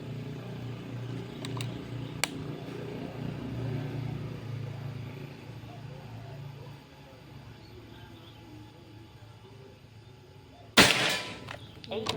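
After a stretch of quiet outdoor ambience with a few faint ticks, one sharp, close shot cracks out near the end, followed by low rustling.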